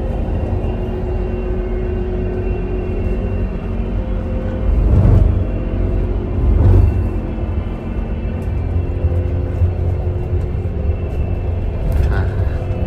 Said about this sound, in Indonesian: Motor penggeraknya di sini.